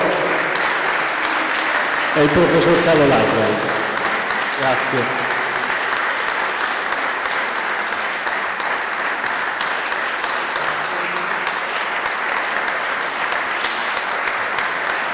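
Sustained applause from an audience at a winter piano, violin and viola concert, loud and steady throughout, with someone speaking over it briefly early on.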